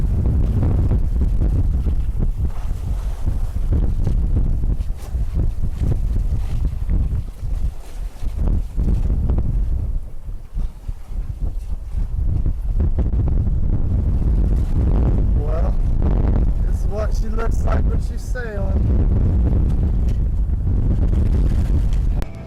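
Gusty wind batters an outdoor microphone near clear water in Key Largo, a loud buffeting roar that rises and falls in bursts, easing briefly in the middle before surging again, with what may be a voice underneath.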